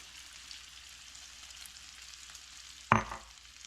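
A potato and egg frittata mixture frying in oil in a pan gives a soft, steady sizzle throughout, with a louder burst of hissing near the end as the mixture hits the hot surface.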